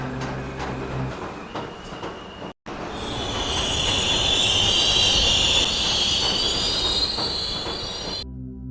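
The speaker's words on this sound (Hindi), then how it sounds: "ट्रेन धीरे धीरे अपनी मंजिल की ओर बढ़ती रहती है।" A train moves along the tracks with a loud, piercing wheel squeal over a heavy rolling rumble, close by and sustained for several seconds after a brief quieter opening.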